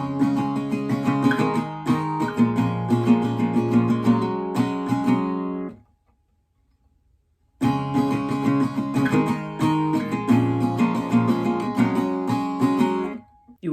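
Close acoustic guitar strums once through the song's chord progression, a dense steady rhythm that pauses for nearly two seconds midway, then picks up again to the end.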